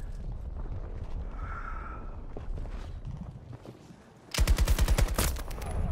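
A rapid burst of automatic gunfire erupts in a Battlefield 2042 match, a dense string of close, loud cracks after a quieter stretch of wind and distant battle noise.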